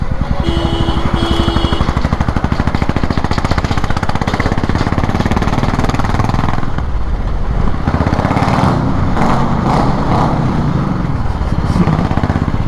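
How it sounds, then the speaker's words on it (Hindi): A Royal Enfield Classic 350 BS6 motorcycle idles close up, its exhaust giving a loud, steady, rapid thumping beat that continues without a break, with a faint tone briefly audible early on. "that is the sound from our beast exhaust"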